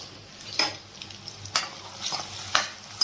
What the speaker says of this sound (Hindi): सोयाबीन जो है इसको हम भून लेते हैं